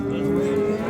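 A cow moos in a long, steady, loud low call close by at the Yakkatut livestock bazaar in Izboskan, Andijan, with no talk over it.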